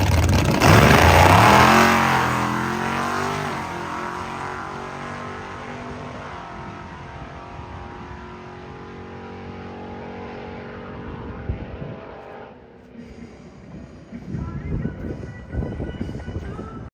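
Drag race car on a test pass, fitted with a Da Vinci carburetor, MSD distributor and coil and an MSD 7AL-2 ignition box, roars loudly at launch then fades into a long, steady drone as it pulls away, with a rougher burst near the end.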